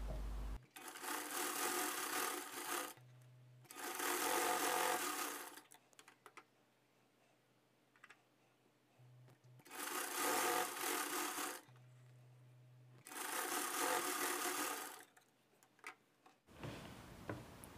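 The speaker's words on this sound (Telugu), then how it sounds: "ఇక్కడ ఈ షోల్డర్ అన్నది స్టిచ్చింగ్ చేసేసుకోవాలి" A sewing machine stitches the shoulder seam of a size 36 lined boat neck blouse, running in four close, even bursts of rapid stitching separated by quiet pauses.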